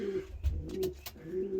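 Pigeons coo softly in a loft, a few low rolling coos repeating at close range with light rustling in between.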